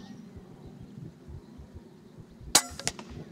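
A single sharp report from a scoped hunting rifle fired at a rabbit, a brief crack at 2.5 seconds followed by a fainter second snap, over a low outdoor background.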